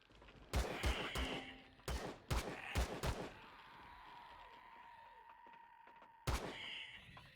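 Heavy shotgun blasts in the Empyrion video game, a burst of several loud close shots in quick succession, a pause with fading echo, then one more blast.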